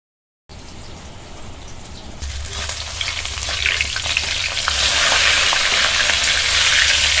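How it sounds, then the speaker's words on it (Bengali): Mrigal fish frying in oil, beginning after a short silence as a soft sizzle that swells into a loud, dense, rain-like crackling and keeps building to the end. "উল্টে পাল্টে মাছগুলো কিন্তু ভেজে নিয়েছি,"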